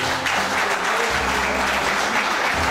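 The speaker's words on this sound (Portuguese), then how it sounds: "peço uma calorosa salva de palmas a Clébio Jackson" An audience at a formal cultural ceremony breaks into warm, dense applause, a steady loud wash of clapping lasting the whole moment with no pause.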